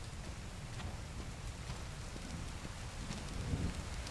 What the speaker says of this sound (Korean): 비가 오고